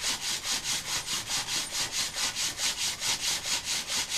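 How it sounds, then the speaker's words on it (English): A hand plane blade is rubbed back and forth on 120 grit abrasive to sharpen its cutting edge, a steady, even rasping stroke repeating about four times a second, close and alone. "I'm on my third blade now that I am getting the cutting edge sharpened. I've still got the 120 grit in there."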